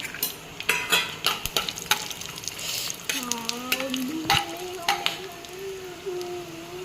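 Bay leaf, cinnamon, cloves and red chilies frying in hot oil, a close bubbling sizzle punctuated by repeated clattering stirs of a spoon against the pan, with a brief voice heard faintly underneath.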